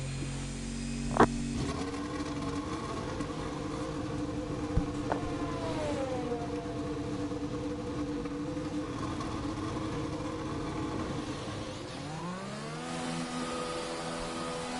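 An F1 race car in the F1 2020 video game pulls out of the garage in Japan with a steady, high, buzzing engine whine that shifts pitch a couple of times as it drives off, heard alone.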